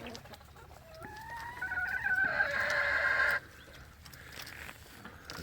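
A chicken clucks in a rising, drawn-out call, growing louder for a couple of seconds before stopping abruptly, with faint outdoor background.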